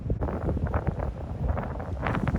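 Strong wind buffets the microphone on an exposed stretch of the Appalachian Trail, a rough, gusty low roar that rumbles continuously and close-up for a couple of seconds, with no voices.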